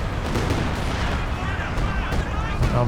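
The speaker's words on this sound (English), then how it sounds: "Meanwhile, some really big hits from Square's artillery." Heavy artillery barrages from Company of Heroes 2 in a 2v2 match, booming impacts and rumbling explosions layered over continuous battle noise, with a commentator talking throughout.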